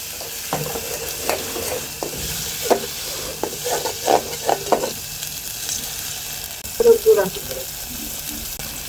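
Small puti fish fry in a pan at home, with a soft steady sizzle under repeated scraping and stirring clatter from a utensil, plus faint background sounds.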